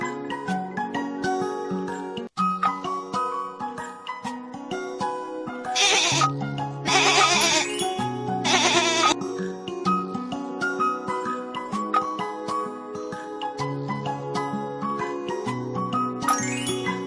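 A goat bleats several times in quick bursts, the wavering cries set against a jingly, tinkling children's music track.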